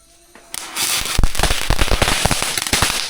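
Diwali firecrackers at a family home, including an atom bomb cracker: after a brief quiet start, a loud barrage of sharp bangs and rapid crackling pops bursts out close by and continues densely throughout.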